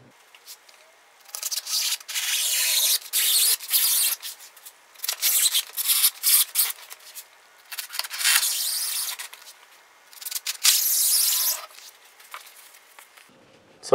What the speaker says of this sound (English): So now that we gotta cut our piece of Armaflex, make sure that your knife is really sharp